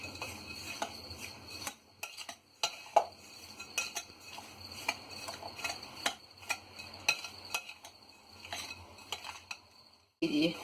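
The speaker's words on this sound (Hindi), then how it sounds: "अब हम इसे अच्छी तरह मिक्स कर लेंगे।" A spoon stirs almonds, cashews, raisins and cardamom powder together in a metal bowl for gujiya filling, giving faint, irregular clinks and scrapes with brief pauses, close and quiet.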